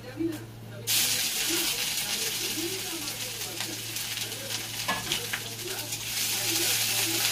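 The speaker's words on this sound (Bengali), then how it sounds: "আদা কুচিটা দিয়ে দিয়ে দেখুন একটু ভাজা ভাজা মতো হয়ে যাচ্ছে।" Chopped ginger frying in a pan for khichuri, a steady loud sizzle that starts suddenly and carries on with light stirring clatter.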